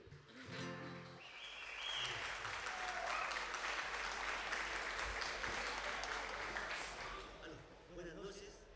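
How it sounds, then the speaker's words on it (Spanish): An audience at a community celebration in Cabrero, Chile, claps to welcome a folk dance group from Lebu, with a steady sustained roll of applause after an announcer's voice at the start. "Llegan a Cabrero, señoras y señores, para recibir este gran aplauso."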